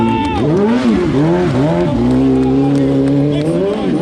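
BMW motorcycle at a superbike meet stunt show, its engine revving loudly and close with rising and falling pitch sweeps and some tire squeal, and an announcer's voice faintly mixed in.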